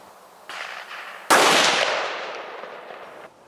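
A rifle shot on an outdoor target range, one loud sharp crack followed by a long fading echo, with a fainter earlier pop before it and no talking.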